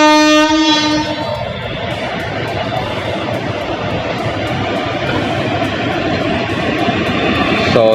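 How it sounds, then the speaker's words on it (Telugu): The Karimnagar to Tirupati passenger train pulls in at Karimnagar station. A loud horn blast opens, then the heavy steady roar and rumble of the wagons rolling close alongside the platform, with no talk. "మనకు కరీంనగర్ టు తిరుపతి వెళ్ళే ట్రైన్ వచ్చేసి మన కరీంనగర్ ప్లాట్ఫామ్ మీదకి ఎంటర్ అయిపోయింది"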